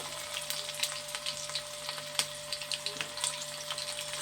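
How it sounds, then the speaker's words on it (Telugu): Garlic sizzling in hot oil, a steady close crackle and spatter with frequent small pops, constant throughout and with no talking. "నూనె అయితే కాగింది. ఇవ్వండి వెల్లుల్లిపాయలు వేసాను."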